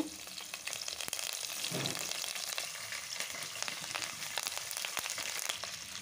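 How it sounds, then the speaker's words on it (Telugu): Green chilies and curry leaves fry in oil over a low flame, giving a steady, close hissing sizzle with fine crackles that runs unbroken for the whole stretch. "వీటినైతే ఆయిల్లో మంచిగా వేగనియాలి లో ఫ్లేమ్ మీదనే."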